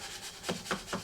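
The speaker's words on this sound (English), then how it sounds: "I just lay it on the edge of my sharpening block and just polish it up a little bit" A steel bench chisel's back is rubbed across a sharpening block in three or four quick, soft strokes, a faint rhythmic scraping heard up close.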